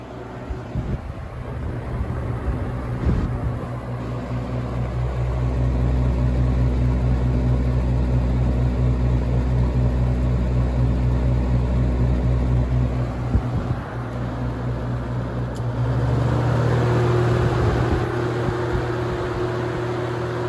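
Holmes HABF-20 box fan runs with a steady motor hum and whir, a continuous close drone that shifts slightly partway through, with no talk.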